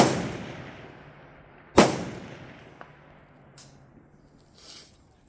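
A single sharp report from an AK rifle at an outdoor shooting range cracks loudly and rings off into the distance, followed by faint clicks and handling noises.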